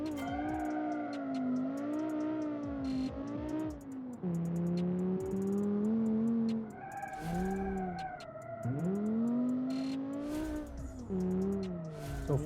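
A 1987 hot hatchback's engine revs hard through several accelerating pulls, pitch climbing steadily then dropping back at each gear change, loud and close throughout with no talking over it.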